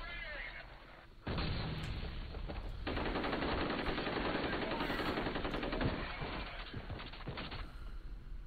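Machine gun fire from the video game F.E.A.R. Extraction Point: loud, dense sustained bursts of automatic shots rattle close up for most of several seconds, with no speech.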